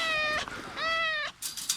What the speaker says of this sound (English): Yes, this is our cat. You've been caught before,